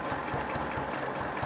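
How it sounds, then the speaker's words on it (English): Sewing machine stitching a row on a quilt, a steady rapid mechanical whir and chatter close up with no talking. "Now I'm going to stitch down here"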